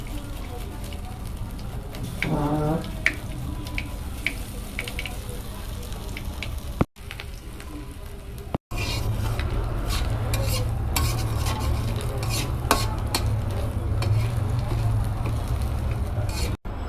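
Dried bay leaf, chopped ginger and five-spice seeds are stirred in hot oil for a vegetarian curry, with continuous sizzling and a spoon scraping the pan. A voice speaks briefly near the start, and there are two short breaks in the sound.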